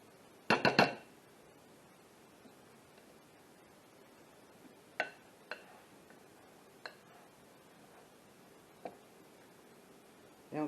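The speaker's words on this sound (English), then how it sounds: "And we'll mix all this together." Dessert ingredients are stirred in a bowl: a quick cluster of clinking taps at the start, then a few sparse, faint clinks and knocks spread over a quiet stretch.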